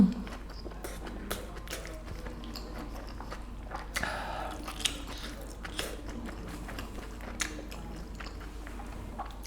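Someone chews a big, hot bite of Spam stew (budae jjigae) close to the mic in a steady stream of soft, wet chewing and squishing, with a few sharper clicks and faint background hum.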